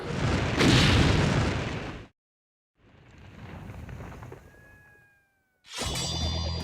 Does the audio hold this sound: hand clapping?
no